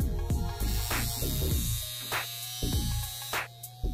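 A portable LZ 006A high-frequency facial device runs with a steady electric buzz and hum, broken by sharp crackling zaps that repeat every second or so, close and fairly loud with no talking.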